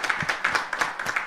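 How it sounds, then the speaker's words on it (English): Light, sparse clapping from a small audience at an election commission's Women's Month celebration, a few distinct claps in an uneven rhythm, fairly faint. "Yes, we can clap for her."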